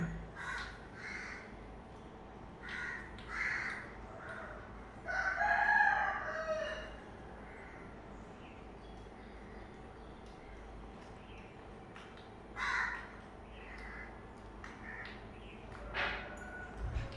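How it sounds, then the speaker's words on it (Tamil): Crows caw in the early morning as they gather to eat food left out for birds, with several scattered calls, some distant and one louder cluster, over a faint outdoor hum. "காலையிலே காக்காயெல்லாம் வந்து சாப்பிட ஆரம்பிச்சிருவாங்க."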